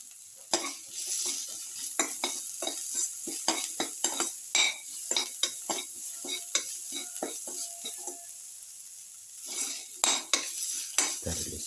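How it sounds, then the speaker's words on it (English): Winter melon and carrot being sautéed in a pan with cumin seed, a spatula scraping and clinking against the metal in quick irregular strokes over a soft continuous sizzle, close and alone with no talk. "Thoroughly sauteing this."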